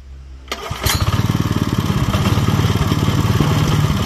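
A Robin 4-stroke 5 hp petrol engine with reduction shaft is pulled and catches, then settles into a steady, rapid chugging idle, close and loud with no talk.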